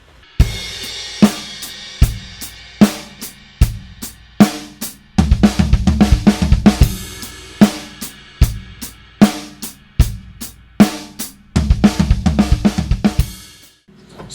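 Drum kit playing a groove with 16th note triplet fills, loud and close, with kick and snare hits under busy rolling fills that recur every couple of bars, ending with a crash.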